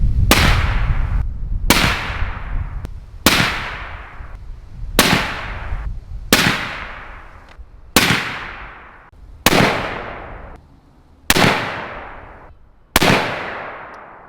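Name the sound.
suppressed 450 Bushmaster rifle shots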